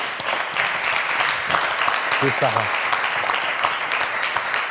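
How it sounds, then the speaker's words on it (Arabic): Studio audience applause in a Tunisian TV studio, a steady wash of clapping mixed with a voice talking over it throughout. "تصفيق عليه زادة"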